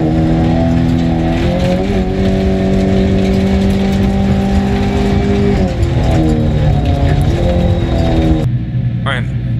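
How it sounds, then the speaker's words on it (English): A front-wheel drive rally car in a racing video game understeers through a 90-degree turn, its engine droning loudly and steadily with shifting revs, pitch dipping and rising, before cutting off abruptly near the end. "a clip of a forward-wheel drive trying to do a 90-degree turn"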